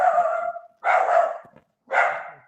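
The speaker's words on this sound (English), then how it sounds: "I love that dog." A dog barks three times up close and loud, each bark a short, sharp burst with brief silences between.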